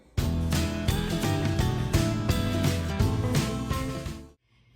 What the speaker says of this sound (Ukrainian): І буду все перебивати блендером.